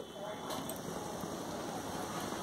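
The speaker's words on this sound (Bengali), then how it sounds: "আরও অল্প একটু আছে, এটাকেও আমি একইভাবে ভেজে নিচ্ছি।" Egg pakoras deep-frying in hot oil give a steady, dense crackling sizzle, close and even throughout without pause.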